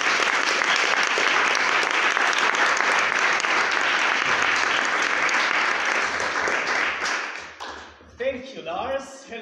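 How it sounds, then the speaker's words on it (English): An audience at a speech contest evening bursts into warm applause, a loud, steady roar of clapping that fades out toward the end as a voice begins to speak. "Please give him a warm applause."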